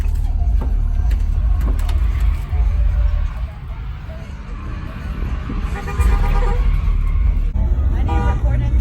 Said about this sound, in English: Oh shit, mufflers.